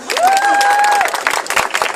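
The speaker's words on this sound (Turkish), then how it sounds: "Alkışlayalım lütfen" Applause from wedding guests during a Turkish civil marriage ceremony, loud and close, with a whistle-like tone over the clapping at first and sharp individual claps toward the end.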